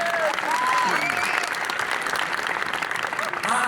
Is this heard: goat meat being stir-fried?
no